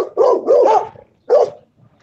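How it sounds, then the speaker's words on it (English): Dogs barking loudly and close by outdoors, several quick barks in a burst, a pause, then another bark and a faint trailing yip. "all we the got dogs barking on us"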